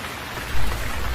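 Steady, dense rain pours down in a cartoon scene, a continuous close hiss with no voices.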